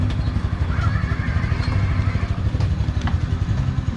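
A motorcycle engine left idling gives a steady, close, low rumbling drone that runs unbroken from start to end, with no voices over it.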